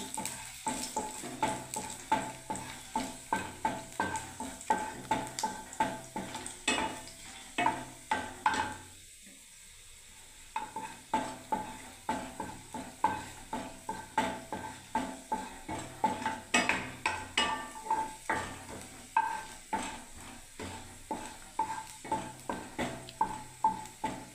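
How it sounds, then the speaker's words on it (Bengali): Garlic fries in a small amount of oil in a pan for a Bengali sukto, giving a steady crackle with repeated stirring and utensil scrapes and clinks throughout, near and fairly loud, with a short quiet pause midway. "ওই তেলেই আমি রসুনটাকে আগে ভেজে নিচ্ছি।"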